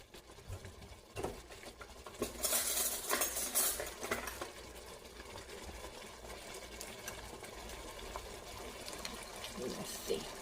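A spoon scrapes and clinks in a pot of thickening chuck roast gravy with vegetables and potatoes, with brief louder stirring bursts over a steady low hum of kitchen noise and faint speech.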